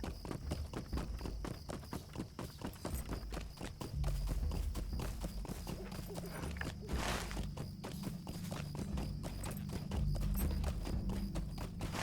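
A horse ridden in a Lord of the Rings video game clip-clops in a steady, rapid hoof rhythm over a low continuous rumble, close and sustained throughout.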